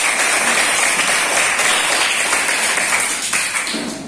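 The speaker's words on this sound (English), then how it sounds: "Strong clap for." A roomful of people claps for a guest at a fourth-grade school event, brisk, loud and continuous throughout, tapering slightly toward the end.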